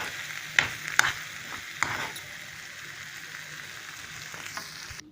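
Stuffing for pointed gourd, made with raisins, frying in a pan. A steady sizzle runs underneath a few sharp scrapes and clicks as a spoon stirs it, close up and with no voices.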